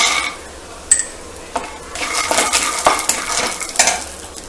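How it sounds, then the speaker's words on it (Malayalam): Peanuts being dry-roasted without oil in a pan that holds a little leftover oil from toasted coconut, with a spoon scraping and rattling the nuts in a busy, continuous stir and sharp metallic clinks near the start. "ഇനിയിപ്പോൾ നമുക്ക് ഈ പാനിലോട്ട് തന്നെ നമ്മുടെ കപ്പലണ്ടി വറുത്തെടുക്കാം."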